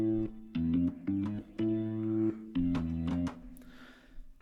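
Bass line in an Ethiopian pentatonic style, starting on the root, sliding down to E then F and climbing chromatically, heard as a series of separate plucked notes, moderately quiet and alone with no talk.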